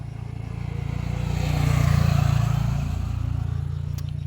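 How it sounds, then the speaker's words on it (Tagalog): A motor vehicle, such as a motorcycle or car, passes on a roadway. Its low engine drone swells to a peak midway, then fades steadily as it moves off, with no speech. "kay daghang kay mga motor nangagi"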